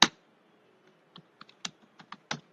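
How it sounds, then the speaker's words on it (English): Typing on a computer keyboard while entering a date into a spreadsheet: one sharp key strike, a short pause, then a quick run of light, separate taps close to the mic in a quiet room. "we go to the Excel and type the date here"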